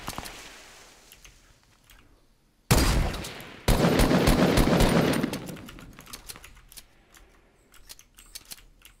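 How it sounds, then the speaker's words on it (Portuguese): Hunting rifle shots in a Fortnite Battle Royale match, two loud sharp blasts in quick succession followed by a decaying tail, standing alone without talk. "o maluco matou outro com rifle de caça"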